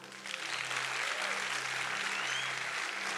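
An audience gives steady, dense applause at a religious talk, a continuous wash of clapping heard from a distance in a reverberant hall.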